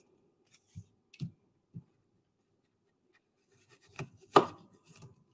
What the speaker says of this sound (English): if you put it to an angle and take your knife this way, you can cut the core right out of there